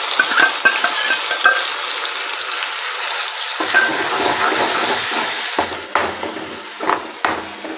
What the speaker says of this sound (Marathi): कांदा चांगला तेल सुटेपर्यंत आपल्याला परतून घ्यायचा आहे